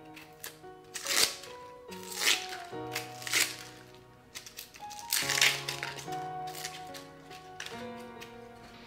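An onion's dry papery skin being peeled off by hand over a table bin, close crinkling and crackling bursts in irregular clusters with brief pauses between them.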